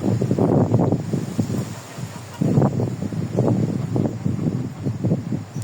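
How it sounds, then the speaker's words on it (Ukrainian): Gusty wind buffets the microphone in rough, rumbling bursts, with faint bird calls mixed into the steady outdoor noise. "У нас сьогодні трохи вітряно"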